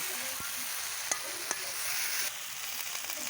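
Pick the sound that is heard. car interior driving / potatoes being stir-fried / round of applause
potatoes being stir-fried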